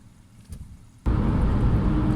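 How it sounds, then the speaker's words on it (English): A quiet interior gives way abruptly to loud, constant low road rumble inside a moving Nissan Micra with a CVT. "I hope you can hear me over the road noise"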